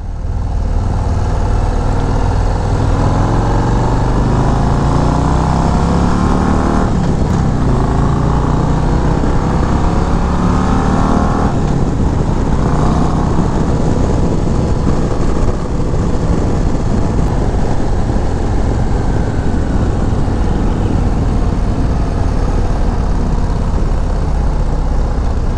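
A 2024 Harley-Davidson Road Glide CVO ST rumbles loudly and continuously on the ride, its engine note climbing and dropping with throttle and gear changes under steady wind rush.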